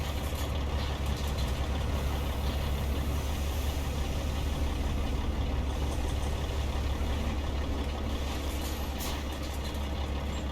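A Peterbilt 357 log truck pulling a loaded log trailer drones steadily in American Truck Simulator, a constant low engine rumble at moderate level with no talk.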